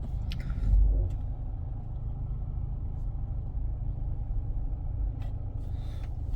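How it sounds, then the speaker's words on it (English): A BMW F10/F11 rolls slowly forward with a steady low engine rumble, a brief thump near the start, otherwise an even drone. "I will drive a little bit forward."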